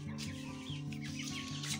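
A two-month-old backyard-raised criollo cockerel chick clucks softly and repeatedly, faint and close, with a steady low hum underneath.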